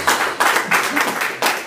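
Congregation at a church service clapping hands together as an offering for Jesus, several bursts of rhythmic, fairly close applause that start and fade in quick succession.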